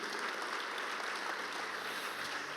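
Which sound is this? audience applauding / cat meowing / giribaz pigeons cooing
audience applauding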